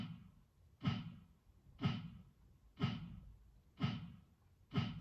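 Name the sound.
bass drum line from a multitrack song recording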